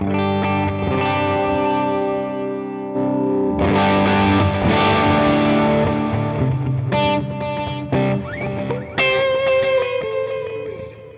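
An electric guitar plays thick, distorted chords and notes through an amp with its drive raised by a foot switch, heavily overdriven, sustained and loud with a gritty, saturated tone.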